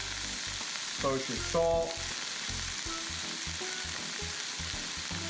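Jerk chicken sears over high heat in a pan, a steady hiss of frying running the whole time, while a voice briefly speaks over it.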